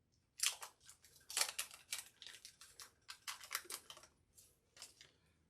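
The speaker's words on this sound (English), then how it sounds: "I'm going to cut some up, cut some slices off." A knife slicing through a block of Irish butter on a board, giving a series of faint, crisp cutting scrapes in uneven bursts, close and alone.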